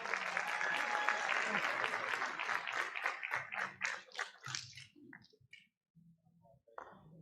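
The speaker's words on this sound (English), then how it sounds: "Let's give him a round of applause, people." Audience applause at a Capital School District State of Our Schools event greets an 8th-grade student speaker coming to the podium, dense clapping that thins out and trails off into scattered claps after about four seconds.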